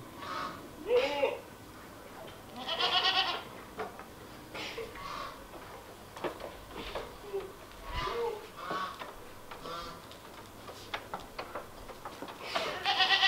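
Goats on a goat farm bleat repeatedly at a moderate distance, in uneven bursts with pauses between them, and people talk quietly in the background.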